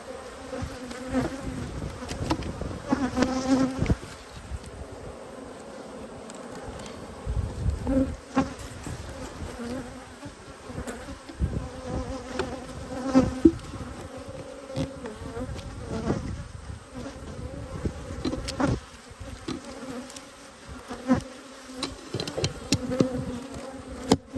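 Bees hum and buzz steadily and close by around an opened backyard hive during an inspection, a dense, continuous drone with swells and passing flybys and no talk.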